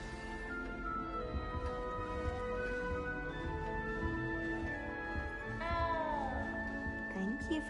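A cat meowing inside Hogwarts Legacy, a few rising and falling meows near the end, heard over soft layered game music with faint talk.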